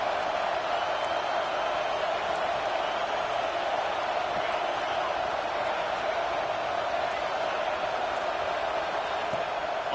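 Stadium crowd in an NCAA 26 college football video game, a steady dense roar of cheering fans, constant and fairly loud without pauses.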